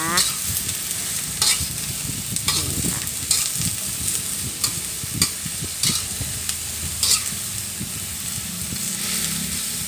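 Steady sizzling and frying of cabbage with pork belly in a wok, with repeated scraping and stirring strokes, close and continuous, no voices.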